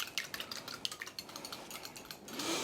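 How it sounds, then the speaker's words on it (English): An egg is whisked in a bowl for pastry dough, with a quick run of light clinks and taps that starts fairly faint and is followed by a softer, wetter swirl. "So we'll just whisk this egg a little bit."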